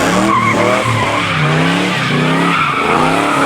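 A track car does a burnout, its tires squealing loudly and continuously in wavering high-pitched wails over a roaring engine, close and sustained throughout.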